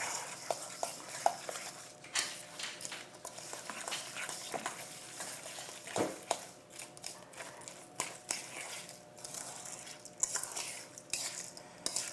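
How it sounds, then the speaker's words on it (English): A fork mixes turkey meatloaf ingredients in a bowl, giving repeated soft scraping, clinking and squelching strokes at an uneven rhythm, quiet and close, with no talking. "I'm going to use a fork, and you just want to mix it"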